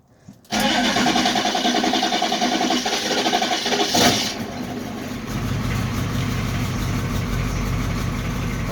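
A dump truck engine, just fitted with a new ignition switch, cranks briefly and fires up loud and close, then settles into a steady rumbling idle.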